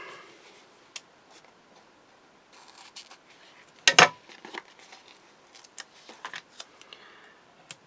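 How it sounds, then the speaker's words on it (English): Scissors cutting card at a crafting table: quiet, sparse ticks and snips, with one sharp, louder cutting snap in the middle and small clicks scattered around it. "And then scissors."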